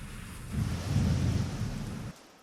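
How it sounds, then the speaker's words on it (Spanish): A thunderstorm on the Serengeti: a low rolling rumble of thunder swells and fades over steady rain, loud and close, with no voices. "Y cuando pasó la tormenta"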